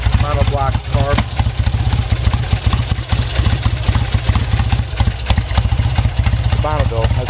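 A 1966 Triumph Bonneville twin with monoblock carburetors running just after a cold start, a loud, steady, close-up idle with a rapid low throb and mechanical clatter, and bursts of talk over it.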